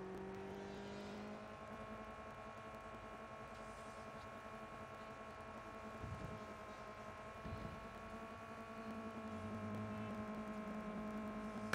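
A car engine in Cyberpunk 2077 hums in a steady, faint drone while driving, its pitch holding mostly level with slight shifts, without any talk.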